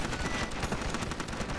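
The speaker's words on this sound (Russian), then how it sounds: "Смотри-ка, он зачастил со своей стрельбой-то." Rapid machine gun fire from the zombie-survival game Dead Ahead: Zombie Warfare, a dense, steady, loud burst of shots with no voice over it.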